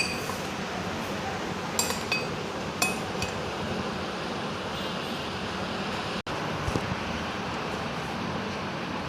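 A few light glassy clinks and taps ring out as Oreo packets are placed in a glass, over steady background noise, sparse and close by.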